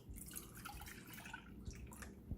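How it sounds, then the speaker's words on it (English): Milk pours into an electric hot pot in a steady, close trickle with a few soft drips, with no talking. "Add the milk in there."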